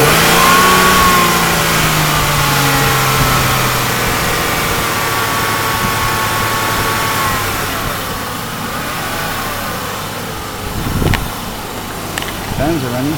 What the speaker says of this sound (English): Let's give it some more revs and then we're done.